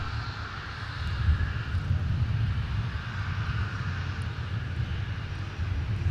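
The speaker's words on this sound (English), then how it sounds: "we've got Southwest on its way out" A Southwest airliner departing Minneapolis–Saint Paul airport makes a steady, distant engine roar with a broad rumbling low end that holds level throughout, without voices.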